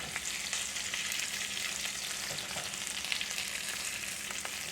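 Potatoes fry alongside sausage in a pan with a constant, moderately loud crackling sizzle that never lets up, with occasional faint pops.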